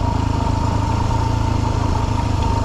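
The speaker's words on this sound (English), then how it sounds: "I'm doing the first gear engine braking." A dirt bike engine is braking in first gear on a steep downhill mountain trail in Colorado, making a loud, close, steady burbling rumble with a rapid clattering pulse throughout.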